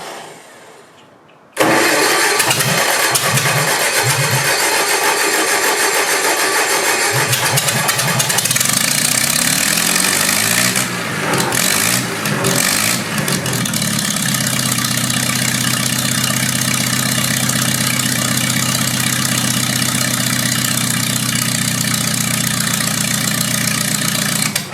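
A 65hp stump grinder engine cranks and catches, then settles into a loud, steady idle with a deep low rumble that holds through to the end, no talk over it.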